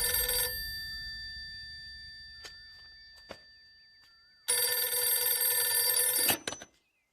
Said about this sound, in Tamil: உனக்கு தான் ஃபோன்